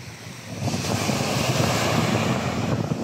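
Sea waves rolling onto the shore at Morong, Bataan, a steady broadband wash of surf that swells after a quieter start, with wind buffeting the microphone throughout and no voices.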